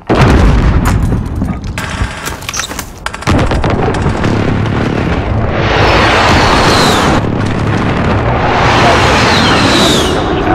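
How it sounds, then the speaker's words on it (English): Rolling airstrike explosions from the Call of Duty Modern Warfare video game, with heavy booms and crackling blasts up front, then two long swelling roars of detonations that rise and fade in succession, loud and continuous throughout. "Enemy precision airstrike."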